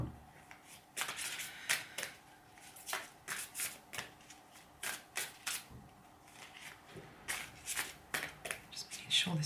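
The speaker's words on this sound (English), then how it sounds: "I'm going to pull some cards linked into where the divine masculine energy is and where the" Tarot cards being shuffled by hand in a quiet room, a rapid run of crisp riffling bursts and soft slaps that repeat steadily and close up, with no voices over it.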